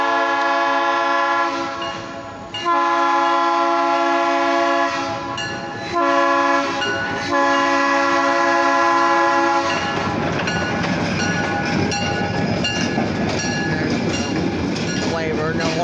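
OC&T light power train led by Alco 75 passing near Perry Street in Titusville, loud steady horn blasts, then a rumbling engine and clattering wheels close by.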